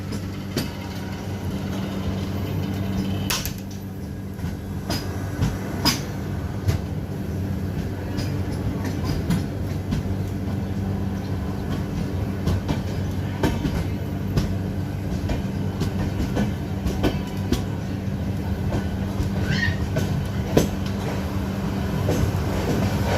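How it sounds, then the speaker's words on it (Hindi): Steady rumble and rhythmic clatter of the Telangana Express passenger train departing Chandrapur, India, with occasional clicks and a low continuous hum. "चंद्रपुर से हमारी ट्रेन अब रवाना हो चुकी है।"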